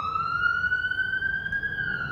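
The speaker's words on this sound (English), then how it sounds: "Sorry for the ambulance in the background." An ambulance siren in the background, one long wailing tone rising slowly and steadily, moderately loud and heard on its own without talk.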